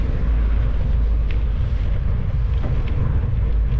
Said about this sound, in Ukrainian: Вітер як завжди в лице